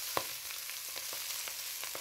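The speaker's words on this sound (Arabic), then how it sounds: "هنبتدي بقى نحط السلق حبة حبة عشان هو هايش، لغاية لما ايه يدبل" Swiss chard frying with golden garlic in a pan gives a soft, steady sizzle, with faint stirring taps scattered through.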